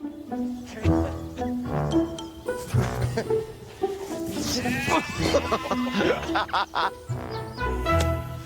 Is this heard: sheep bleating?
yes